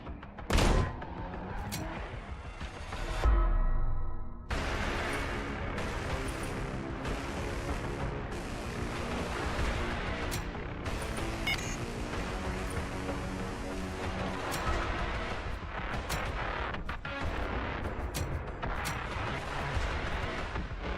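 Explosions in a video game demo crackle and boom in a dense, nearly continuous barrage like heavy gunfire, with a heavy whooshing blast early on and sharp impacts scattered throughout.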